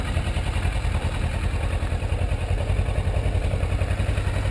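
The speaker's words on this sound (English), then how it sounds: "slowly start letting off the clutch, and you'll feel the bike start to move" Motorcycle engine running at a low, steady throb with faint mechanical clatter as the clutch is let out in first gear, close by and even in level throughout.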